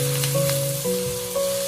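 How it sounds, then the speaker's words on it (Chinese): Luffa, egg and wood ear mushroom are tossed quickly in a wok over high heat. A close, constant sizzle plays under sustained tonal humming. "这里我们需要开大火快速的翻炒"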